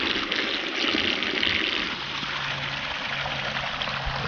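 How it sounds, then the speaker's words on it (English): Water from a gravity hose waterfall pours steadily into a recreational pond, a loud, continuous rushing splash with a faint low hum running beneath it, and no one speaking. "Still flowing good. Now it should get more coming over this."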